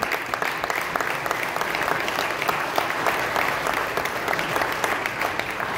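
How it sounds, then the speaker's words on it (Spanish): Sustained applause from a church congregation during Sunday mass, steady dense clapping that fills the space evenly throughout, with no voices standing out. "¡Aplausos!"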